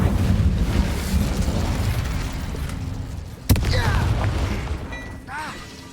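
A fire spell cast in the Hogwarts Legacy video game: one sharp, loud burst flares up midway through, over a steady rumbling bed of game ambience.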